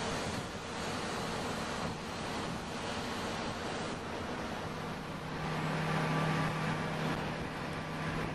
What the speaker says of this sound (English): There's a particularly intense random wind.